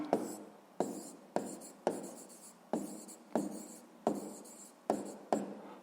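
A pen writes by hand on paper in a series of about nine quick scratchy strokes, each starting with a sharp tap and trailing off, close and quiet with no talk.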